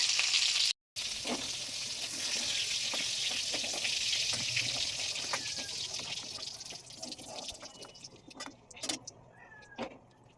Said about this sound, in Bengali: এবার এটা মোটামুটি আমাদের ভাজা হয়ে গেছে।